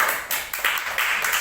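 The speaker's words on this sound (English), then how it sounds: "give a clap to Dr." An audience at a customer-experience event claps for a doctor who has just spoken, a brief burst of hand claps rising and falling in uneven bursts, fairly close and without talk over it.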